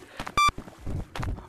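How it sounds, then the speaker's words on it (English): Proximity beeping in the Capuchin video game, a short bright electronic beep standing out over faint game footsteps and background noise. "the beeping tells me how close it is to me"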